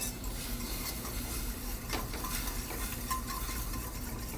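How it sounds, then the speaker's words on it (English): A whisk works white wine into a Dijon peppercorn sauce for honey lavender glazed salmon, giving a steady, soft swishing and scraping with a faint sizzle underneath. It runs continuously and quietly, with no talking. "And then you're going to want to whisk it together."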